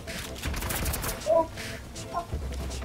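Gunfire in the Fortnite video game, a quick burst of rapid shots up close amid game noise, with a brief louder crack near the middle and more scattered shots after.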